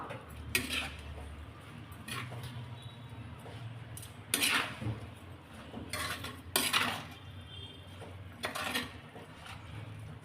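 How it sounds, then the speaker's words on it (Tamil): A dry spoon stirs and scrapes chopped citron pieces with salt for a pickle in a bowl, giving repeated clinks and scrapes in uneven bursts over a quiet background. "இப்போ ஒரு ஈரம் இல்லாத கரண்டி வச்சு நல்லா இந்த உப்போட இதை நல்லா கலந்து விட்டுறலாம்."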